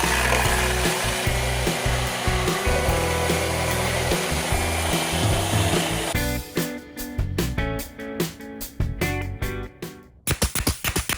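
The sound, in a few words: sanding wood flat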